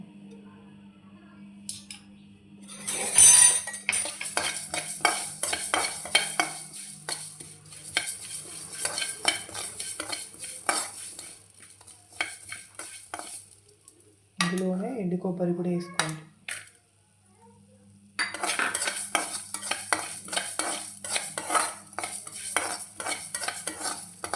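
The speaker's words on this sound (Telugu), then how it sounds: "ధనియాలు కొంచెం నెయ్యి వేసుకుందాం మనం" Coriander seeds fry in ghee for a drumstick-leaf spice powder, stirred with busy scraping and clinking in the pan, a soft sizzle underneath, and a short pause midway where a voice briefly sounds.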